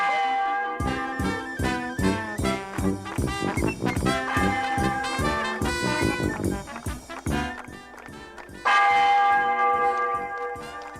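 Several church bells peal loudly in overlapping, clanging strokes, a dense continuous ringing that swells again near the end.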